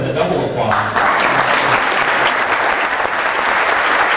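Audience applause for family members at a service recognition awards ceremony, a dense steady wash of many hands clapping that swells after the first second and holds loudly throughout, with some voices mixed in at the start.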